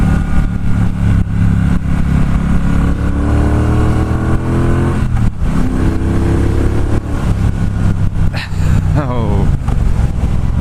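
A 2018 Triumph Bobber Black motorcycle accelerating on the road, its loud engine note rising and falling through the gears as it pulls hard, with wind rush and a brief shift mid-way; the rider talks over it.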